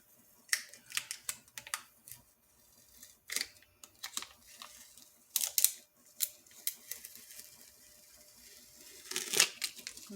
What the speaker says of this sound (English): And I just peel flat. You can see here. Peel it flat back.